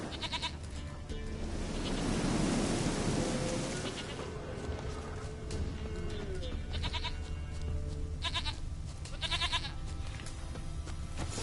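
Goat bleating in the video game Witcher 3, a few wavering bleats over an outdoor backdrop with faint rain and a low rumble, heard at moderate distance, with brief speech nearby.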